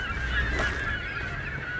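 Seagulls calling in the video game Tomb Raider, loud honking squawks heard close and alone against a faint steady ambient background.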